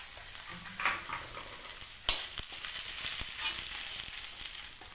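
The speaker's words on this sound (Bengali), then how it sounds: "শুকনো লঙ্কা চিড়ে দিয়ে দিলাম, আর দিয়ে দেব আধা চামচ মতো জিরে ফোড়নের জন্য" Dried red chillies and cumin seeds sizzle in hot oil in a pan while tempering for ghugni, a soft, steady crackling hiss with one sharper pop, close but fairly quiet, without talk.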